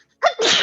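A single human sneeze, close and loud: a short sharp intake followed by a breathy, explosive burst lasting under half a second.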